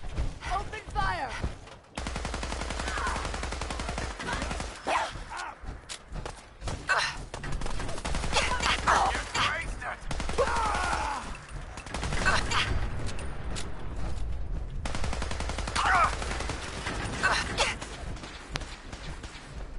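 Gunfire in the video game Fallout 4, sustained bursts of shots running almost continuously through a battle, with game music and effects underneath and a few footsteps.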